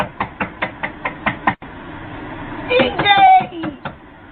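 Rapid knocks land on a door, about seven sharp evenly spaced raps in quick succession, followed by loud shouting voices.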